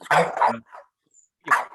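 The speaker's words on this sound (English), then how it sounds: "the dog is so mad at me because all I do is ignore him, and now he's just barking at me" A dog barks at close range: two quick loud barks, then a softer yip, and a final bark after a short pause.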